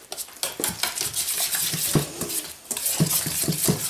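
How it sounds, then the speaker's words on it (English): Pancake batter made with milk is whisked briskly by hand in a bowl, close and continuous, with rapid rhythmic clinking and sloshing. "Start off with manually with whisk."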